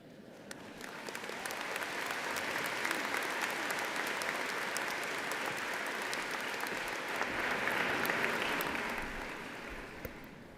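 An audience at a university spring convocation claps in sustained applause, loud and dense, swelling and easing over about ten seconds before tapering off.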